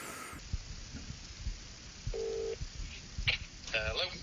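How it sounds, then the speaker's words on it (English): A phone places a call with a short steady dial tone and a few electronic beeps while someone talks nearby. "Then I'm going to give Jamie a call"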